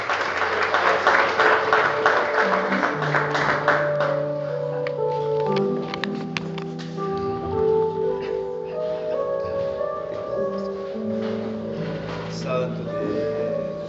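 Church congregation applauding during a service, dense clapping loudest at the start and thinning out, with singing and music carrying on underneath.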